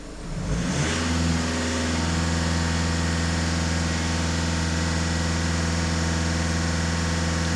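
A Skoda Octavia A7 1.6 TDI diesel, 140 hp, revved from idle up to a held 2500 rpm, rising quickly in the first second and then droning steadily and loudly close by with no voices.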